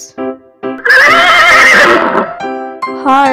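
A horse whinnies in a long, loud, wavering neigh framed by short harmonic calls before and after, close and clear.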